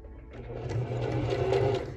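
A sewing machine stitching a buttonhole hums up into a brief, steady mechanical whir with quick needle ticks, close and moderately quiet, lasting about two seconds.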